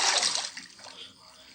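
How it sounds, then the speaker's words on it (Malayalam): Swimming up through water in a mining and building video game, with a burst of splashing and bubbling water that quickly fades into a quieter liquid wash. "ഇനി വെള്ളത്തിൽ കൂടെ തന്നെ മേലോട്ട് കയറിപ്പോൾ."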